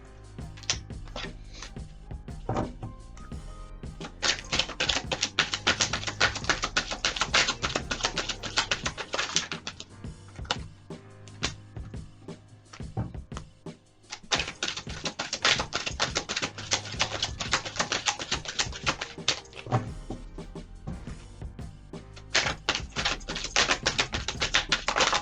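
Rapid papery riffling in long bursts, a deck of tarot cards being shuffled close by, with brief pauses between rounds.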